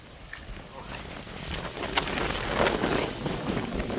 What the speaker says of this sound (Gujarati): વરસાદને પવન